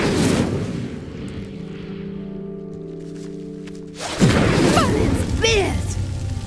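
An Incendio fire spell in Hogwarts Legacy ignites a pyre: a steady low hum gives way to a sudden loud whooshing burst of flame with crackling, swirling tones.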